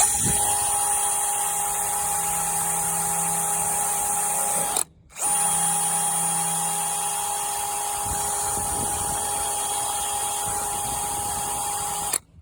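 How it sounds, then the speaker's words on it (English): Wire wheel spinning against a US M7 bayonet during restoration, a steady high-pitched whine and scraping hiss with one brief pause and restart, close and continuous with no talk. "I'm just gonna go up and down this thing with the wire wheel, cleaning it all over"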